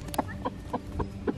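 A rooster clucks to call hens to a treat of bean sprouts, five short, close clucks in a steady rhythm against quiet farmyard background.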